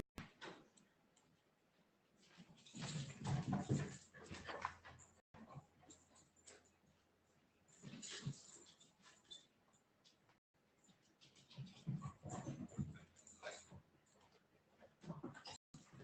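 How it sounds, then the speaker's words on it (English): A happy dog whimpering and snuffling in bursts of soft whines and panting, fairly faint and close, with quiet gaps between the bouts and no clear talk. "I have a very happy dog to see me."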